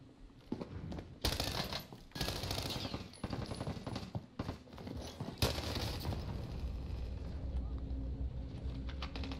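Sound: gunfire in Call of Duty Warzone video game

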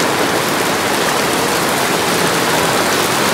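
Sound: heavy rain falling on a market

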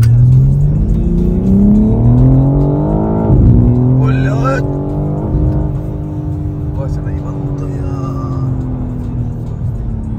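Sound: BMW M4 G82 engine revving while driving

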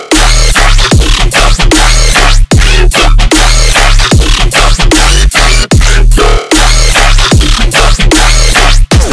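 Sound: dubstep music track

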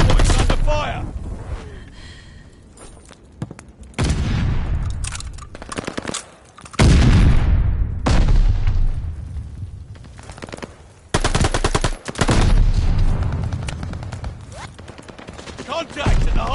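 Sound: gunfire at the hardpoint in Call of Duty video game

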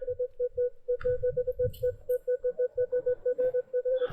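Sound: Minelab Equinox 900 metal detector signal tone

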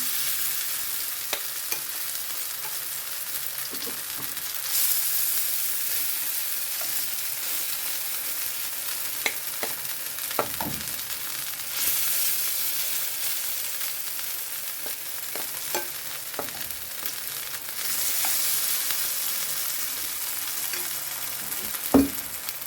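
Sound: potato pancakes frying in a pan

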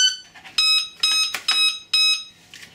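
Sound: E-Flite Carbon Z Yak 54 ESC beeps for 4-cell battery

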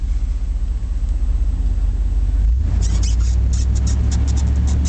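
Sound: 1989 Chevrolet Silverado K2500 4x4 truck driving in first gear, four low

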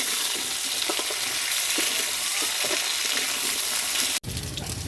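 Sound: potatoes frying lightly in a pan

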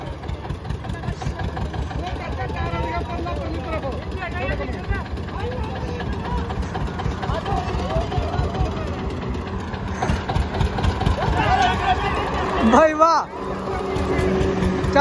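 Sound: Eicher tractor engine running

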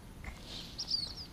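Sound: bird calling

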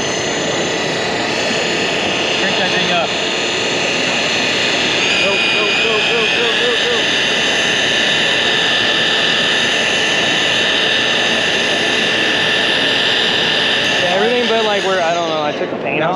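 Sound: power polisher with fine polishing pad running

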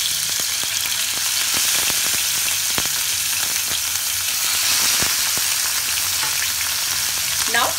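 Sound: marinated fish frying in hot oil

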